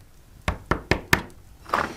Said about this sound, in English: He hears a knock on the door.